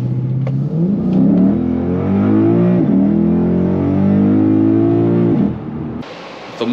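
A Lexus GS-F V8 engine revs up close and loud, its deep tone climbing and falling through a couple of pulls before cutting off abruptly.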